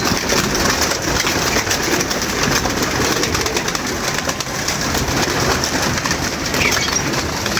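A dense wash of pigeon cooing fills the space, loud and continuous, mixed with a broad hiss of background noise and no clear voices.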